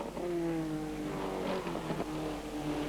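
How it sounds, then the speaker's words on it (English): A TVR Tuscan race car in a 1996 one-make championship race, its engine droning steadily at a distance with a rough, rattly edge as it runs through a bend. "It's making horrible rattly noises now, and I don't think it's really intended to sound like that."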